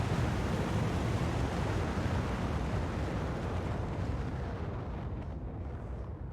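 Many rockets launch at once in the Factorio video game, a loud, continuous rumbling roar that stays heavy throughout and fades slightly toward the end, with no talk.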